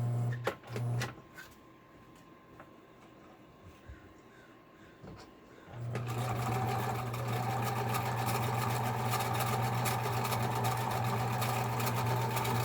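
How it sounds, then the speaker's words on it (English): A Husqvarna Viking 120 sewing machine starts up after a quiet pause and runs steadily, stitching fabric with a loud, continuous droning hum close by. "I guess we're ready to sew"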